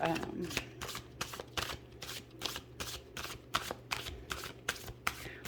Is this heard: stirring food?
no